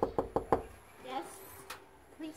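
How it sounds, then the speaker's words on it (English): Four sharp knocks on the main door of a house, quick and evenly spaced, close and loud, followed by quieter room noise and brief voices. "let's knock"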